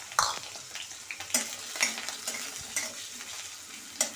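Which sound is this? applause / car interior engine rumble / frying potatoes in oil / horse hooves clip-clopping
frying potatoes in oil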